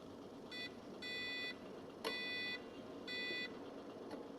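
Electronic low-water warning beeping from a Sunbeam EM6900 espresso machine in repeated bursts, a steady high-pitched tone pulsing on and off several times, over faint background hum, with a sharp click midway.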